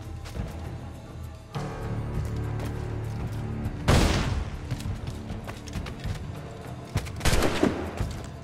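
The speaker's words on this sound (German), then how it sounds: "Ich schieß dir was weg!" Gunfire in the video game Assassin's Creed IV, several heavy booming shots and crashing blasts at irregular moments over a dense, rumbling battle din.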